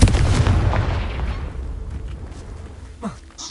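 The Confringo blasting spell in Hogwarts Legacy sets off a loud explosive burst right at the start, which rumbles away over a few seconds. Fainter game sounds follow.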